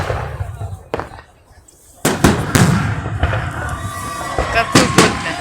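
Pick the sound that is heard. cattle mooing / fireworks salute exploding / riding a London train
fireworks salute exploding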